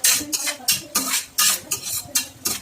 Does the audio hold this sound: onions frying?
yes